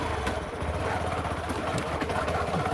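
A motorcycle engine idles steadily on a rocky hill road near Kanaisor hill, Belpahari, a low continuous rumble that stays fairly loud and even throughout.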